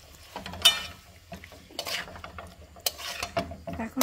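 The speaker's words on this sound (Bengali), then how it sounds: "এখন ঢেকে ঢেকে খুব ভালো করে মাছ কষাবো" Shol fish pieces being fried and stirred in a spicy tomato masala, with several distinct scrapes and knocks of a spatula against the pan between quieter stretches of low sizzle.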